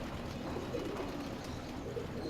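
Soft breeder pigeon coos sound faintly beneath a steady background hiss.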